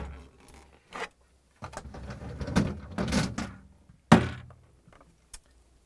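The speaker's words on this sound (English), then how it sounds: "So we need to pull out both drawers." Drawers of a Samsung refrigerator are pulled out, giving a series of plastic thunks, slides and rattles, with one sharp knock near the end and quiet gaps between the movements.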